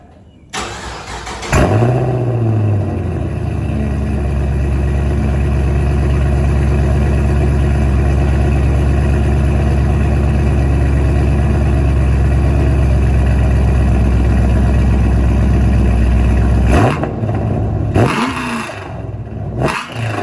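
A fifth-generation Chevrolet Camaro SS with a Flowmaster Outlaw exhaust cranks and fires with a sharp bark, then settles into a loud, steady, rumbling idle close by for about fifteen seconds before shutting off amid a few clunks.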